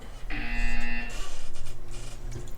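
A loud electronic buzzer from the video game Portal 2 sounds once, a harsh sustained tone lasting under a second, followed by a pulsing hum.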